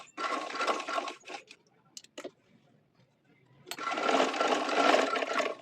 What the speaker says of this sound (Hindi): अब हमने 1 फुट के करीब यहाँ पे सिलाई लगा लेनी है।